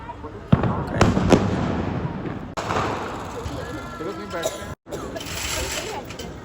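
Fireworks bursting and crackling at a distance in Ujjain, with several sharp pops standing out from a dense rumbling wash, and voices talking throughout.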